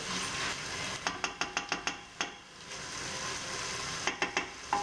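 Chana dal simmering gently in a pan on the stove, a soft continuous hiss with a few quick sharp clicks and taps from a utensil, quiet and close.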